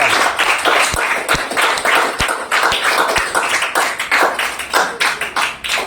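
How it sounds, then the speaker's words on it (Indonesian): Classroom applause from a group of junior high school students, a burst of fairly close, uneven hand claps with a few sharp, loud individual claps standing out, continuing steadily without speech. "Tepuk tangan dulu untuk Anda semua yang sudah menyelesaikan."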